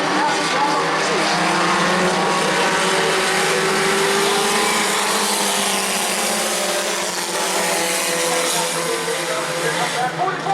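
Stock cars racing at New Smyrna Speedway, a loud continuous engine roar of the field passing with shifting pitch, a track announcer talking over the noise.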